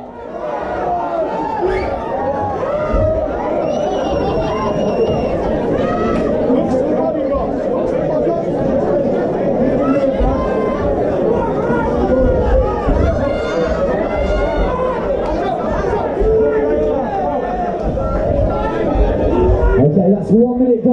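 Dense crowd noise fills an MMA event in Nottingham, a steady roar of chatter and shouting sustained loudly throughout with no letup.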